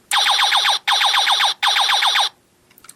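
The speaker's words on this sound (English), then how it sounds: "some little laser gun sound effects." A knockoff oversized Dark of the Moon Megatron toy fires electronic laser-gun effects: three loud, rapid bursts of descending zaps, each lasting under a second with short gaps, then a few faint clicks.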